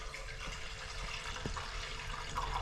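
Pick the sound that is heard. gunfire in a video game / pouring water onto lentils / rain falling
pouring water onto lentils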